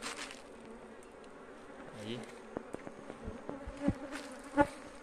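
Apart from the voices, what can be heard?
honey bees buzzing around beehive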